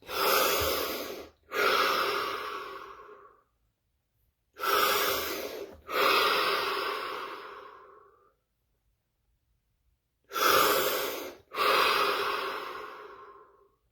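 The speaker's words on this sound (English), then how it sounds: "Here we go. 5 deep breaths." Deep breaths taken in a guided breathing session: three pairs of long, loud, close, airy breaths, each a sharp inhale followed by a longer sighing exhale, with silent pauses between and no talk.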